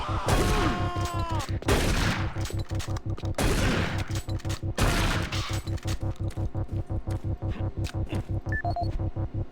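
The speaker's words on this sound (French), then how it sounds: "le fusil à pompe, ça va faire carnage ça" Shotgun blasts from the first-person shooter Doom 3 VR, several loud booming shots spaced a second or two apart over a steady throbbing, pulsing game background.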